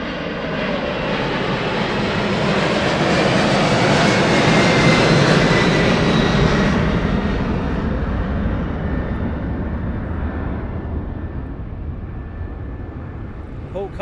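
A DHL cargo aircraft's engines roar loudly at East Midlands Airport at night, the broad jet noise swelling to a peak midway and then slowly fading, with talk faintly underneath.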